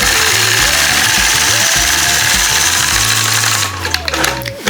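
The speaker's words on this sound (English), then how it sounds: "So apply gentle pressure, engage the machine," Quilting sewing machine running steadily while stitching a scalloped curve guided by a Sway 3 ruler on a 2-inch strip, a continuous mechanical whir with shifting motor pitch that drops away near the end.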